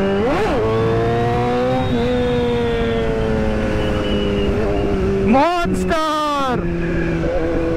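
A first-generation 2015 BMW S1000RR motorcycle engine roars loudly and continuously while being ridden, its pitch rising and dipping through gear changes, with a sharp rev spike near the end. A voice speaks briefly.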